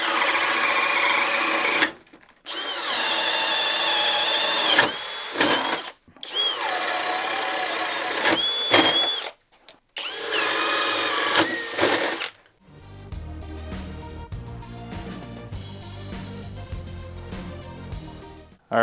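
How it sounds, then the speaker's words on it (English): A Makita cordless drill bores with a 7/8 inch Speed Demon bit, several loud bursts of whining motor and chewing wood separated by short pauses, then a lower, rougher grinding stretch toward the end. "now we're going to be going with Makita on a 7/8 inch Speed Demon."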